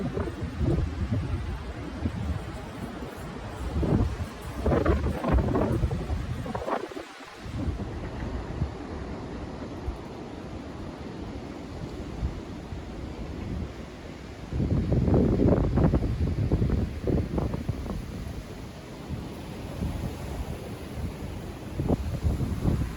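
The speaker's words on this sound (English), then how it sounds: "We've got severe weather warnings across the region and the strong winds are already rolling in." Strong wind buffets the microphone through a night of severe weather at a French chateau, with deep, rolling thunder-like rumbles and loud roaring gusts swelling and easing for over twenty seconds.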